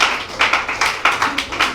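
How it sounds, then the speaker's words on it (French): Close rhythmic hand claps from a church congregation, evenly spaced at a lively steady beat, loud and mostly alone. "Applaudissons pour remercier Dieu pour ce message"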